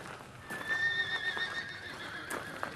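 Horses on a farm whinny and neigh in drawn-out, wavering calls over shuffling hoof clops, fairly close and moderately loud, with no talking.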